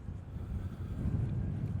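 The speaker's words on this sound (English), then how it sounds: "it's very windy" Strong wind buffets the microphone outdoors in a continuous low rumbling roar, steady and fairly loud, with no talking.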